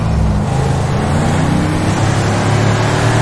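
A car drives off-road in the GTA 5 video game, its engine giving a steady, loud, continuous low rumble with no pauses throughout.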